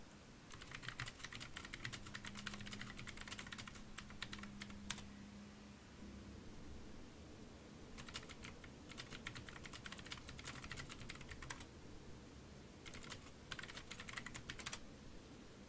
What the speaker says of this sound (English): My nice loud keyboard.